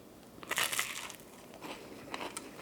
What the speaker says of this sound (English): This was just a bite of the waffle.